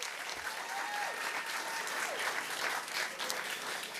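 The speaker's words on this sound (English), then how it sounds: "She deserves another round of applause." An audience at a community gathering applauds steadily for the full stretch, a dense, even wash of many hands clapping with no voices standing out.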